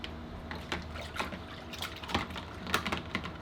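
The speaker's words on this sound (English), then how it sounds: "So I just rinsed it with water." Water runs and splashes over a metal part being rinsed after gun bluing in a home workshop, an uneven stream of trickles and spatters that carries on steadily throughout.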